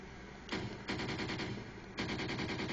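The Chicago typewriter submachine gun in Resident Evil 4 HD unleashes dense bursts of rapid automatic fire, with a second burst kicking in harder partway through over a continuous rattling bed of shots.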